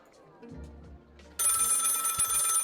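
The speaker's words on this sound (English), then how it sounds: "Phone is ringing." Telephone ringing in the video game Lil Guardsman cuts in abruptly partway through as a loud, bright continuous ring, following a stretch of quieter game sounds and talk.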